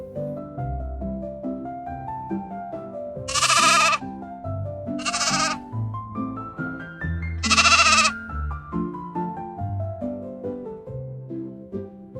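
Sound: sheep bleating

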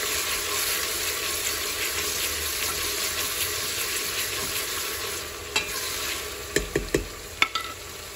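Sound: frying onions with garlic in a pan

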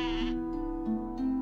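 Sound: ram (Bock) bleating in the video game Gothic

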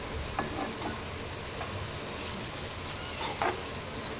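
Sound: brain frying with onions and spices

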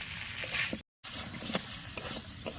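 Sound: frying potatoes with spices in pan

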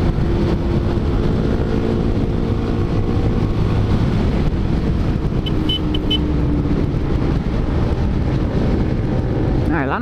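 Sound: motorcycle engine with aftermarket exhaust

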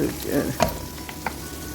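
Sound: onion sautéing in a pan

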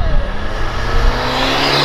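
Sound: BMW car accelerating hard

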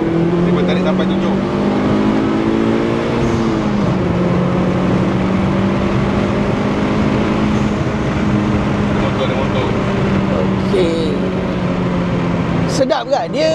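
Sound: Suzuki Swift ZC31S with HKS turbo accelerating hard

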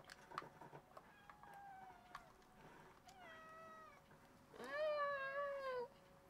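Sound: cat meowing

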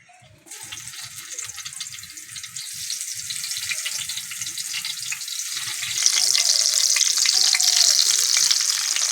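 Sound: eggplant pieces frying in hot mustard oil

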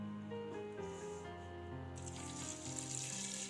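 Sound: water poured into blender with soaked soybeans

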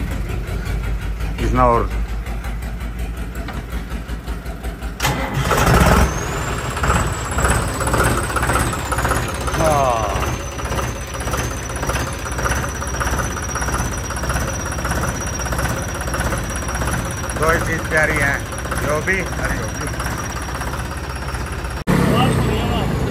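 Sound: tractor engine starting and running while towing

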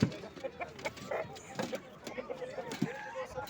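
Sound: chickens clucking at a poultry market

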